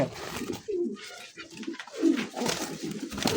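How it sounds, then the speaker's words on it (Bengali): Big Lahori pigeons for sale at a market coo repeatedly and close by, with throaty rolling calls in overlapping bursts against a busy, noisy background. "দেখতে পাচ্ছেন বিগ সাইজের দুই দুইটা কবুতর আছে"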